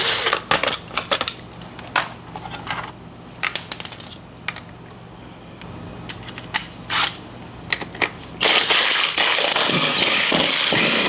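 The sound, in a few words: mini impact wrench removing RV wheel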